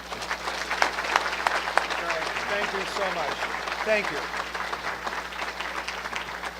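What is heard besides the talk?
audience applause for the Metra chairman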